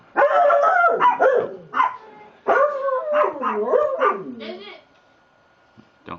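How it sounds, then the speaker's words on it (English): Several dogs bark in loud, repeated bursts close by, with yips and howl-like cries mixed in, falling quiet toward the end. "Don't mind the dogs."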